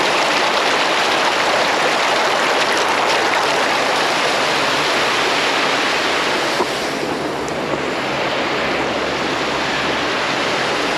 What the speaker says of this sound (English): And we're over here below the spillway.